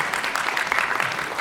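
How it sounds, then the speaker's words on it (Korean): Brief, dense audience applause at a youth employment mentoring concert in Korea, steady and fairly loud for about a second and a half. "큰 박수 부탁드리겠습니다."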